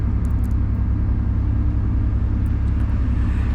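A motorhome driving out of the lakeside campsite toward the waste disposal station, a steady loud engine and road rumble with constant low drone throughout, no talk.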